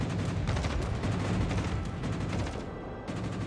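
Bombs dropped on a cruiser in a naval battle video game, a rapid cluster of heavy, overlapping blasts and rumbling booms, loud and dense, fading briefly near the end.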